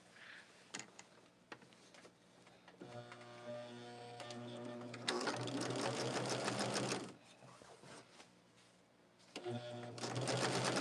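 A sewing machine stitches the sashing onto a Shooting Stars quilt block in steady rapid runs, with pauses and restarts between bursts of stitching, heard up close and without talk.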